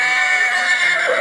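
A horse gives one loud, close whinny lasting just over a second, alone without talk.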